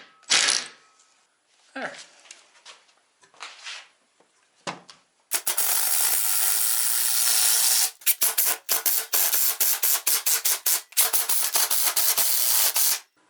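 A power drill drives screws into a live edge wooden console table top in several whirring bursts, some long and some short and stuttering, after a few scattered knocks and a brief spoken word.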